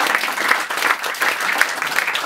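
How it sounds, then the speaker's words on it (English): An audience at an Egyptian stand-up comedy show applauds, a dense, steady round of clapping from a close crowd that lasts a couple of seconds. "So, round of applause for Egyptian moms for just being out there for us."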